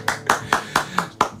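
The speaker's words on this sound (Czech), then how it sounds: "Děkuju moc krát, já tleskám." Hands clapping six times at a steady, even pace, close and crisp with no voices, in a live radio studio.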